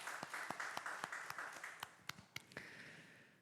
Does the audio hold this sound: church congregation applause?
yes